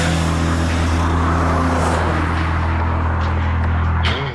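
A car built to drive reversed accelerates hard during a timed acceleration test, its loud, steady engine drone sustained close by until it eases off at the very end.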